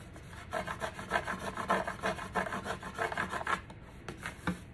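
A hand tool scrapes across a wooden sign in a quick run of rough, rhythmic rasping strokes, close and fairly quiet, with no voices.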